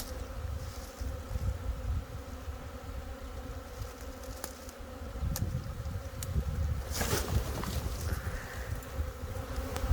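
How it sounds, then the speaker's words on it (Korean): A swarm of honeybees buzzes around a hive during a swarm capture, a steady close droning hum with individual bees passing by, occasional faint clicks and knocks, no talking. "걷다 벌통을 놔두면 여왕벌이 있으니까 그 나머지 벌들도 모두 벌통 안으로 들어간다"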